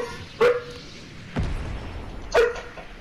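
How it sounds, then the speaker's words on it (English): A pet dog barks nearby in a few separate sharp woofs, spaced about a second apart, set against the background sounds of a Fortnite match. "My dog's barking."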